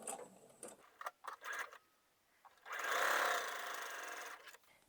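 A sewing machine chain-pieces quilt blocks onto a scrap, with faint handling clicks and bumps followed by a brief, steadier burst of stitching near the end, all fairly quiet.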